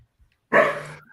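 A sleeping dog lets out a single short, muffled bark after near silence.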